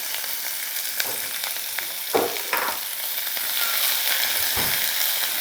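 Spices tempering in hot oil for a cauliflower curry give a steady, close sizzle with occasional stirring clatters and a few sharper crackles, with no voices.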